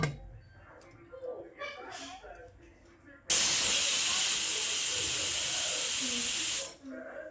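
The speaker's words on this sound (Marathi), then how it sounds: "झाकण लावलेले आहे ना आता शिट्ट्या करून घेणार आपण कुकरच्या" A pressure cooker whistles, blasting a loud, sustained hiss of steam for about three seconds during a home cooking session for a potato and peas vegetable curry. Quieter kitchen noise and a voice come before and after it.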